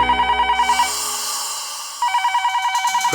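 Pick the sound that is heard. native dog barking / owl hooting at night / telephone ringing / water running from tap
telephone ringing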